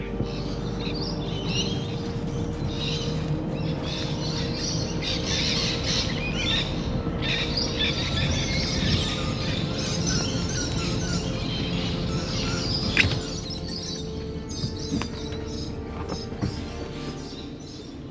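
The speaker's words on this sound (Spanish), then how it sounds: "estuve un ratito escuchando mis pajaritos" Birds chirp and call continuously throughout in an Australian forest, layered over a steady outdoor ambience with a low hum, no voices present.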